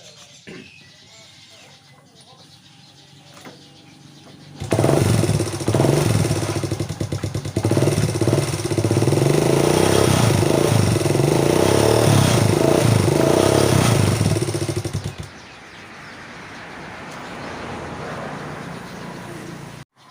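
Motorcycle engine cranked and started after its charger plate was replaced, then idling loudly and close for about ten seconds with small revs before cutting out, followed by quieter background noise.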